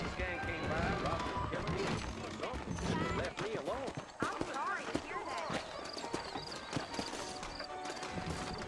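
Horse hooves in the Red Dead Redemption video game: steady galloping clip-clop runs under almost continuous talking and game music, with the hoofbeats partly masked.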